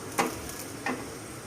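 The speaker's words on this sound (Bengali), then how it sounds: "দিয়ে উল্টিয়ে পাল্টিয়ে এভাবে ভাজতে হবে" Egg jhal pitha frying in oil, turned over in the pan, gives a steady soft sizzle with two light scraping clicks as it is flipped.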